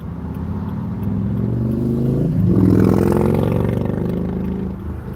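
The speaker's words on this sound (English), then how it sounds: "That's the Hot Rod Prius taking off." A modified Toyota Prius engine revs hard and roars louder as it accelerates close by, a deep throaty rumble that swells midway and then holds steady.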